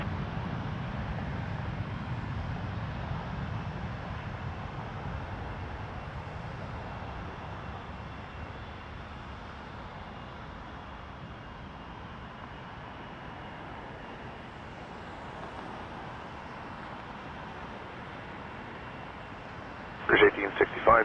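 A Jazz airliner takes off from runway 23 at Toronto Pearson, its engines a distant, steady roar that slowly fades, heard beneath radio chatter.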